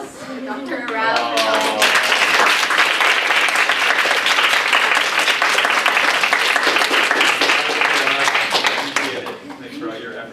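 An audience at a leadership talk in Kuala Lumpur breaks into a sustained round of applause for Dr. Matthew Arau, building quickly and holding strong before tapering, with voices mixed in.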